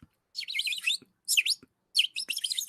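Bright bird chirps come in three quick bursts of rapid tweeting with short gaps between them, close and clear with no talk.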